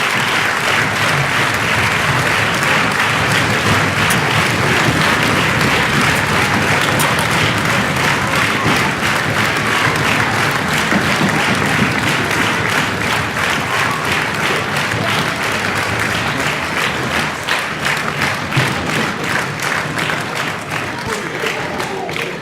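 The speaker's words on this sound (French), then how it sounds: "Je vous demande également de faire un tonnerre d'applaudissements à deux femmes d'exception" A sports trophy ceremony audience in Soustons breaks into long, loud, sustained applause from a large crowd, turning steadily rhythmic toward the end with faint voices mixed in.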